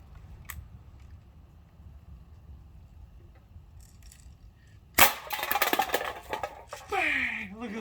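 Outdoors, a BB gun fires at bowling pins: a quiet lull, then a sudden sharp crack followed by a clatter of pins tumbling, with voices reacting afterward.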